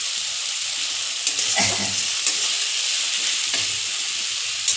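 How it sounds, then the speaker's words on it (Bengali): Spice masala with a little tomato fries in a pan, a steady close sizzle with faint stirring scrapes and a few soft clicks, no voices. "মশলাটা ভালো করে ভাজা"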